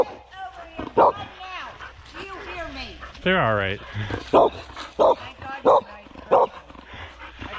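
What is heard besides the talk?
dogs barking on a bike trail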